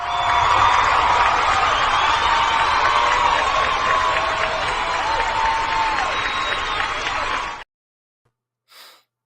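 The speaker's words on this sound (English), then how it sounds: "The crowd goes wild." A studio audience at a live talk show greets an arriving guest with a loud, sustained roar of cheering and applause that cuts off abruptly, followed by a brief faint sound.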